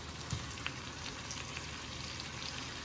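Bean sprouts with soy sauce being stirred in a frying pan give a soft, steady sizzle and crackle with a few light scraping clicks, close and fairly quiet, with no voices.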